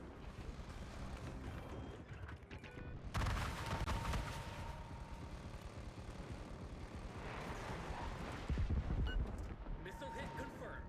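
Rockets and missiles strike a target in a video game, bursts of explosive impacts and gunfire-like crackle over a droning aircraft hum, with a player talking throughout.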